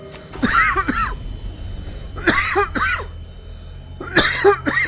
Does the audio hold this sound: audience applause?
no